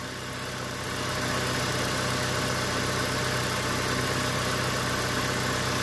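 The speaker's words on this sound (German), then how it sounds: "bis jetzt hört sich der Motor wirklich gut an" A BMW car engine idles steadily nearby, a constant even rumble and hum that settles after the first second, with no voices.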